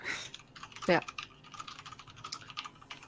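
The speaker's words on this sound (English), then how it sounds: "I love that typing." Rapid clicking of keys on a mechanical keyboard, steady and close, at a CubedCon 2018 convention panel, with a brief murmur of a voice near the start.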